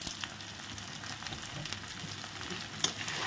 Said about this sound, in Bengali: আলুগুলো দিয়ে একটু ভালো করে কষিয়ে নিচ্ছি